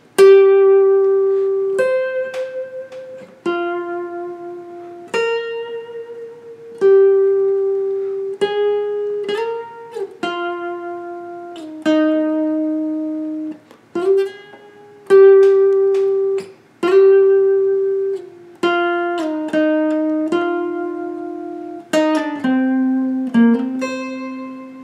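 A Hytale tune is played on guitar as a slow melody of single plucked notes, each ringing and decaying, with brief gaps between phrases and no talking.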